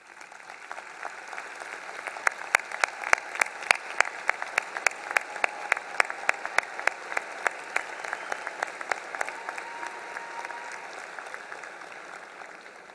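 Families standing at a university commencement are applauded by the crowd, a soft, distant bed of clapping with sharp individual claps popping out; it swells through the middle and gradually thins toward the end.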